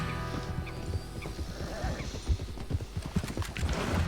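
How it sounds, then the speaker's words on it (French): Horses in the Red Dead Redemption video game draw closer with a run of clip-clopping hooves and a neigh, loud and busy over a game soundtrack, while faint voices murmur underneath. "j'entends des chevaux"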